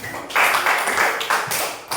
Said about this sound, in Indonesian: Sekarang kita tepuk tangan untuk kita semua.